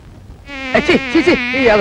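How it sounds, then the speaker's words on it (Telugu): A buzzing fly hums in close and loud, its insect whine swooping up and down in pitch in several passes after a brief quiet start. "ఈగలు"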